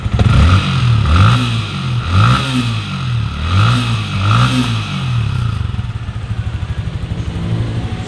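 Yamaha Sniper 155 motorcycle engine revved repeatedly up and down in close, loud swells, then settling into a steady rattling idle.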